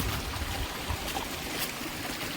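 A mountain stream flows on the Kumaraparvata trek, giving a steady, close rushing wash of water that fills the whole moment without pause.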